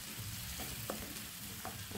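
Chopped onions frying in a pan for a home-cooked egg bora curry, a quiet, steady sizzle with a few soft stirring clicks and scrapes throughout.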